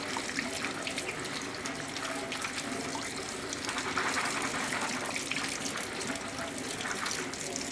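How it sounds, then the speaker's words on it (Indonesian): Fresh raw peanuts being washed under a running tap, with a steady broadband rush of water spilling into a sink that holds throughout at moderate level, rising slightly midway, with no clear speech over it. "bahan yang tadi kita dapat dari pasar atau petani berupa kacang tanah segar, kita cuci"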